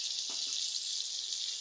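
Potatoes frying in hot oil with chili powder, giving a steady, even sizzle close up, with no voices.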